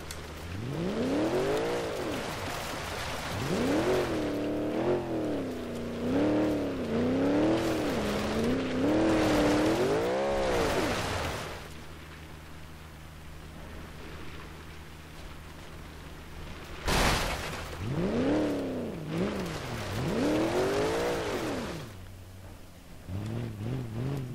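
A car in the BeamNG.drive driving game revs repeatedly, its engine pitch rising and falling in surges, then drops to a quieter steady drone before revving hard again.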